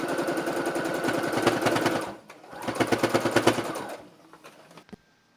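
A sewing machine stitches a baby frock in two loud, steady runs of rapid needle strokes with a short pause between them. After that come a few scattered clicks and a quiet tail.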